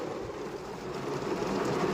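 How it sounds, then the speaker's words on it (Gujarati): Heavy rain pours down in Gandhinagar as a dense, steady, close roar with no pauses and no talking. "વરસાદ કેવો પડે જબરજસ્ત પડે છે"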